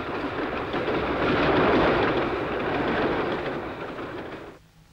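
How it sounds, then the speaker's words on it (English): An electric express train rumbles past up close, a loud broad roar with rhythmic clatter that swells, holds, then drops off abruptly. "One of these is an express train serving the Blue Mountains area, some 60 miles west of Sydney."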